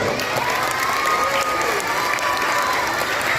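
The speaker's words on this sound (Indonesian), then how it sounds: "tepuk tangan dulu" Children clap together at a Maulid celebration in an Islamic elementary school, with a steady burst of applause mixed with crowd noise throughout.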